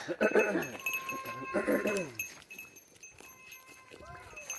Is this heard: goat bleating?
yes